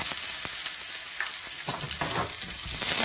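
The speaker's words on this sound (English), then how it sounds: "And so we just fry the onion." Onions sizzle and crackle in a hot pan, a steady hissing fry with occasional stirring scrapes, close up and without talk.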